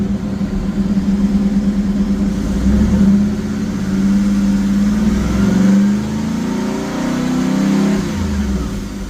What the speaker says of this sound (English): Gradually rev to fuel cutoff and release.